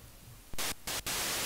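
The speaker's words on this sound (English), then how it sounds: "We've got some nice pure white noise, but we don't want that." Pure white noise from a synthesizer in the FL Studio Mobile app, three loud hissing bursts that switch on and off abruptly, separated by brief gaps, after a quiet start.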